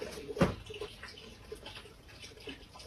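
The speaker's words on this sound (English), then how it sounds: "Water seeping through the wall here." Water seeping and trickling inside a house wall during a major leak, a faint continuous wet dribble with one louder splash near the start.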